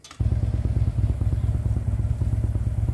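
Original Harley-Davidson motorcycle engine idling close by after a brief quiet start, a loud, lumpy, uneven low throb with a loping rhythm and no talking.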